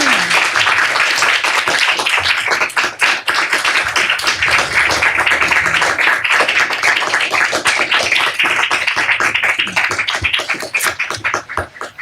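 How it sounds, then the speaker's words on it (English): Loud, dense applause from a conference audience for a panel discussion on Catholics and antisemitism, a sustained wash of many hands clapping that holds steady for several seconds before thinning toward the end. "If you want to give them a round of applause."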